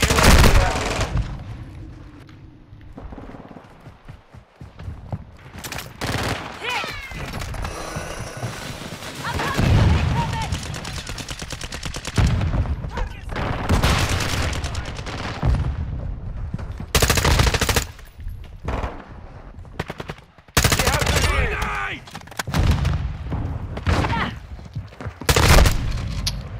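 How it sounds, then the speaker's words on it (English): Rapid bursts of shotgun and automatic gunfire from Call of Duty: Modern Warfare II, loud and close, with heavy booms and dense volleys separated by brief quieter gaps, under intermittent in-game radio chatter. "Shotguns. Gotta love them."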